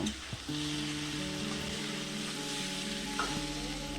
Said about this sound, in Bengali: কাঁচা লঙ্কা দিয়েও আরও চার পাঁচ মিনিট কষে নেব